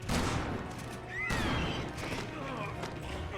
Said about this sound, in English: I'll shoot this guy.